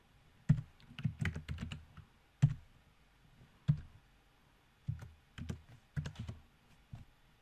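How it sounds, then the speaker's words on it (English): Keys on a computer keyboard typed in short irregular bursts of clicks with pauses between, close and clear with no talking. "I'll type the example."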